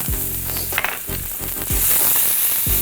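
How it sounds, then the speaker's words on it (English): Ginger and dried chilies stir-frying in oil in a pan for Mongolian beef, a loud steady sizzle broken by several scraping stirs, close and alone without talk. "I'm gonna just stir fry this ginger and these peppers"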